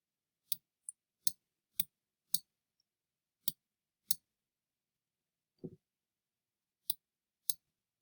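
Computer mouse clicks while resizing slides, about ten sharp, isolated clicks spaced irregularly over several seconds, close and clear in an otherwise silent room.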